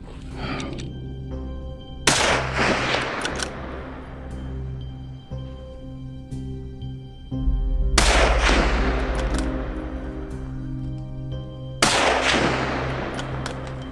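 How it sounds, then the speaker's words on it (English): Loud gunshots ring out with rapid bursts of fire during a wild boar hunt in rugged mountains, three heavy volleys spaced several seconds apart, each echoing and fading, with low music beneath. "Then a gunshot shattered the silence. Rapid shots followed"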